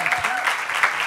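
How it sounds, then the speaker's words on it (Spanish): A brief burst of audience applause at a studio recording of a television show, a steady wash of many hands clapping with a voice faintly audible underneath. "Esto se merece un aplauso"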